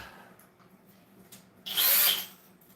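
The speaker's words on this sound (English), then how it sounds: "let's try a real drill with it" A power drill spins up after quiet handling noises, a loud, close whirring burst lasting under a second before cutting off.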